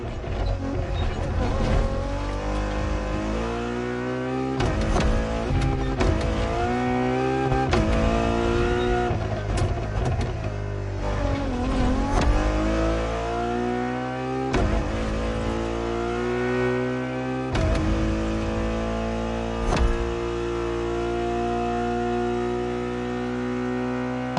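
A road-legal Formula One style Ferrari supercar engine revs hard and loud, its high whining tone climbing and dropping through repeated gear changes with sharp shift pops, close and continuous throughout.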